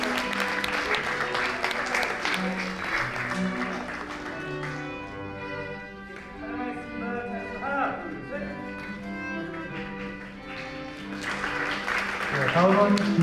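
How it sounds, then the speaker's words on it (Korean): Applause from the audience during a flower presentation at an honorary doctorate ceremony, sustained clapping that dips in the middle, with voices and other sounds heard through it. "큰 박수 부탁드립니다."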